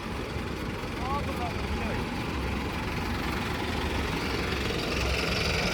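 A steady, rumbling engine of a small tractor preparing a farm field drones throughout at an even level, with faint voices mixed into the constant noise.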